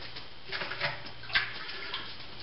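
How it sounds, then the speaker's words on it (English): Boiled, cooled water is poured into an apple cider brew, giving a short, faint trickle and splash against a quiet background. "I'll pop just a little bit of boiled water."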